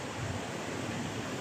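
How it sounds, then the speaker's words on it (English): A small mountain waterfall, partly frozen at the bottom, on a winter trail near Everest, gives a steady, even rush of falling water with no other sound. "Oh, a little nice waterfall there."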